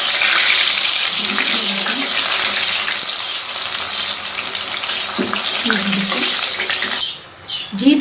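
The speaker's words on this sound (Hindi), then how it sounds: "ऑयल हमारा गर्म हो चुका है। अब मैं इसमें बनाना चिप्स डालती हूँ" Sliced banana chips frying in hot oil, a loud, dense, steady sizzle that continues for several seconds and then drops away near the end as stirring noises come in.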